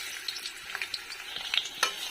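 Chopped onions fry in oil in a pan, a soft continuous sizzle with scattered clicks and scrapes as they are stirred, fairly quiet and close.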